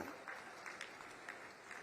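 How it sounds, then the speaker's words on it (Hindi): An audience at a crop insurance scheme government event applauds, a diffuse spread of many hands clapping with sharper individual claps scattered through, steady and somewhat distant. "और एक बार ताली बजा के अभिनंदन करो जी"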